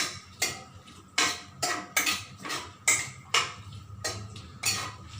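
Daal khichdi being stirred in a pot after salting, a spoon scraping and knocking against the metal in a rhythmic series of about a dozen close, sharp clanks.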